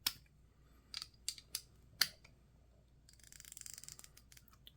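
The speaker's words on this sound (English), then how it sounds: "And that is a very nice sounding ratchet." Socket wrench ratchet clicking, quiet and close: a few separate crisp clicks, then a faster run of fine ratcheting ticks as the handle swings back and forth.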